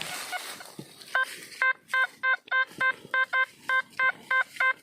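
Regular electronic beeping tones from a handheld metal detector, a dozen short pulses in steady rhythm, clear and close against quiet background.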